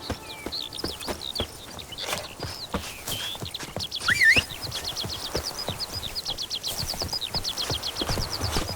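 Hooves of the horse Roach clip-clop steadily on hard ground in The Witcher 3, a brisk even rhythm up close, joined by chirping birdsong and a brief whinny midway.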